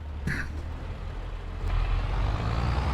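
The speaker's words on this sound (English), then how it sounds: "This tractor's too loud." A tractor engine runs loud and steady, a heavy low rumble filling the whole stretch and swelling slightly louder toward the end, with a brief hiss early on.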